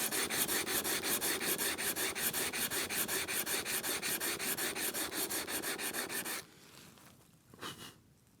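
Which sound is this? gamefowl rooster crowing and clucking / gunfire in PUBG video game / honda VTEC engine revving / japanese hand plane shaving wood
japanese hand plane shaving wood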